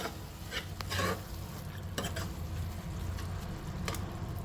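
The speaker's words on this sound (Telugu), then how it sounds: "కర్రీ అయితే చూద్దాం ఉడుకుతుంది" Drumstick and tomato curry simmering in a pan, a soft steady bubbling sizzle with a few spoon-stir scrapes, close but fairly quiet, no voices.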